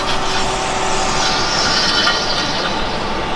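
A rock caught between the brake caliper, pad and rotor of a Tesla Model S Plaid grinds steadily as the car rolls forward, a loud, continuous rough scraping rumble heard up close with no break.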